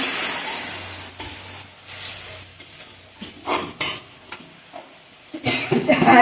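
Water splashed into a pan where shrimp and taro stolons fry with ginger-garlic paste, giving a loud burst of hissing sizzle followed by stirring scrapes and clinks of a utensil against the pan.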